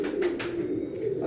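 Pigeon cooing close by, a fancy net-patterned pigeon brought out from indoors, a steady low rolling coo running continuously through the moment with no talk.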